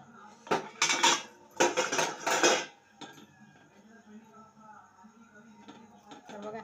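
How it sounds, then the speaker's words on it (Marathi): A spoon flipping appe in a metal appe pan, with several loud clattering scrapes and clinks close up in the first seconds, then quieter faint taps. "आता आपण उलटे करून बघू त्यांना."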